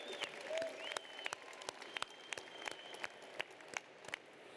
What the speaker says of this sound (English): We can clap for that, right?